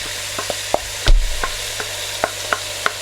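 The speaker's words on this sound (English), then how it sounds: "leave that to sizzle while stirring" Nigerian party fried rice seasoned with Knorr aromat sizzles steadily in a hot pan, with a continuous close frying hiss broken by repeated scrapes and clinks of a spoon stirring through it.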